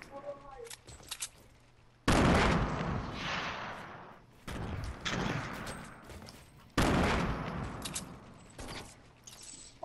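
Gunfire in a Fortnite-style shooter during a duos match, three loud bursts of rapid shots with sharp cracks, each ringing out and fading, close and alone apart from faint game noise.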